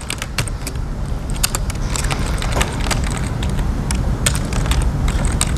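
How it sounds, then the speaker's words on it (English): Rapid typing on a computer keyboard, with scattered sharp key clicks in uneven bursts over a loud rumbling background, close and continuous with no talking. "let's just see how good my typing is under pressure"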